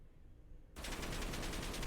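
Rapid gunfire from a rifle fitted with a PEC laser and firing AP rounds, a loud fast-repeating burst breaking in abruptly after a quiet start and continuing close and steady to the end.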